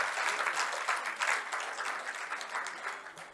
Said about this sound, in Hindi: आपके उद्गार आपकी तालियों के माध्यम से व्यक्त होंगे